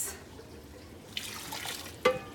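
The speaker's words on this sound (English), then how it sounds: "we just put it in a strainer in the sink. Let all the water goes" Water from a pot of basmati rice being cooked is poured through a strainer in a kitchen sink, a soft rushing splash that swells midway and ends with a sharper splash, close and quiet.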